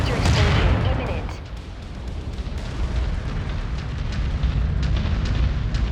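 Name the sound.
mech reactor explosion in video game MechWarrior 5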